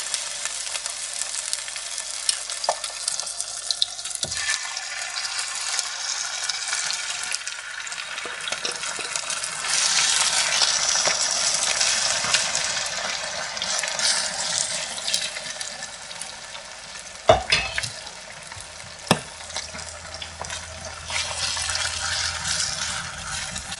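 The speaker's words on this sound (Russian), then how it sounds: "И жарим 10 минут," Beef liver frying in a hot pan with a crisp, continuous sizzle, interrupted by a few sharp knocks of stirring. The sizzle swells and eases over about twenty seconds, with no talking.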